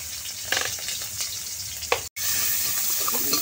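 Chopped onion hitting hot oil in a heated kadai, a loud steady sizzle with brief stirring scrapes, cut by a short silent gap before the frying hiss resumes.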